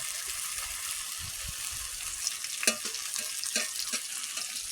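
Food sizzling steadily in hot oil in a pan while cooking a spicy loitta fish curry, a constant hiss with a few sharper crackles and spatters as ingredients shift, close and alone.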